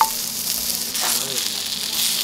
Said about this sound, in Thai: ย่างแบบไม่ต้องสุกมากนะทุกคน